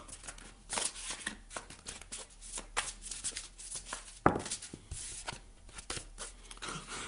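Tarot cards are handled and laid out on a table in a series of soft, close shuffling, sliding and tapping sounds, with one sharper slap midway.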